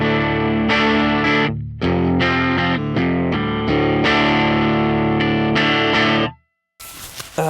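An electric guitar plays dry through a Fender Mustang Micro Plus headphone amp with no reverb or pedal, loud sustained chords and notes with a slightly overdriven edge, ending in a short burst of noise after a gap.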